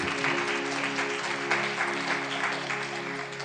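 A congregation at a Punjabi sermon claps loudly together: a thick wash of hand claps that swells and fades slightly over a few seconds, over a steady sustained tone underneath.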